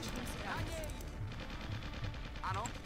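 Gunfire in the real-time strategy video game Original War, quiet bursts of shots heard faintly under background game sounds.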